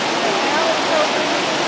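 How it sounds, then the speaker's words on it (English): A river in the Ecuador rainforest west of Quito rushes steadily after a day of rain, a loud, continuous broadband wash of flowing water. "Got a cool looking river over here."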